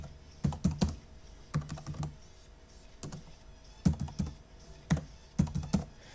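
Bursts of quick keystrokes clatter on a computer keyboard in short groups with brief pauses between, close and fairly quiet in an otherwise still room.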